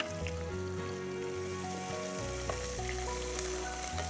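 Onions and curry leaves fry in a pan for a paneer dried-red-chilli fry, giving a steady, close sizzle that holds at even loudness throughout with no voices.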